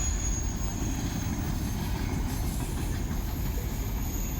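A freight train with loaded auto-rack cars rumbles past close by, a continuous heavy roll of wheels on rails with a faint high squeal above it.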